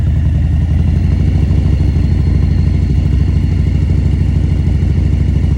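A Harley-Davidson motorcycle engine chugs at a low, steady idle-like throttle through a slow 20-foot U-turn, close and loud with a constant rhythmic rumble and no voices.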